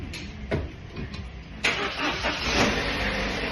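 A car engine cranks briefly, then catches and starts, settling into a steady, loud idle close by.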